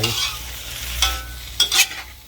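Vegetables being tossed and mixed in a hot pan, a close sizzle with a few quick scraping stirs near the end.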